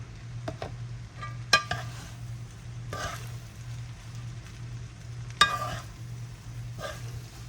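Fried rice sizzles steadily in a pan while a utensil stirs and scrapes through it, with a few sharp clinks of metal against the pan.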